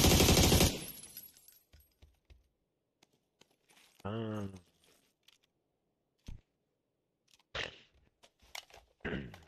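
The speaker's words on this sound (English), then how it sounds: "They're shooting." Video game gunfire: a loud burst of shots at the start, then scattered sharp cracks and short bursts later on, with a brief voice in the middle.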